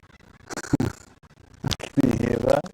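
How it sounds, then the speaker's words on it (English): Laughing birds call near Sydney Harbour at Waverton: a short raucous burst, then a longer run of rapid, cackling repeated notes, fairly close and loud against quiet outdoor air. "They're laughing birds."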